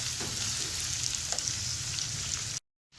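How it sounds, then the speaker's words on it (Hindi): Onions fry in a pan over a medium-low flame, giving a steady close sizzle and crackle with occasional small pops, which cuts off abruptly near the end. "5 से 6 मिनट मैंने मीडियम टू लो फ्लेम पे प्याज को अच्छे से फ्राई कर लिया है।"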